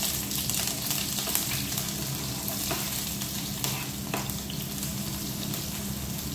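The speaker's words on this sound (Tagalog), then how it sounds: "I-fried natin siya sa oil." Shrimp sizzles and crackles steadily in hot oil, with occasional stirring scrapes and clinks over the constant frying hiss.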